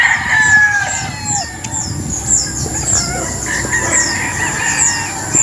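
On a wide farm of about four hectares with many tethered stags, several roosters crow repeatedly near and far over steady clucking and background farm noise.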